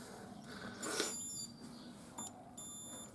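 A multimeter set to continuity mode, used to test motorcycle wiring, gives a few short, thin electronic beeps with quiet pauses between them, close and fairly faint.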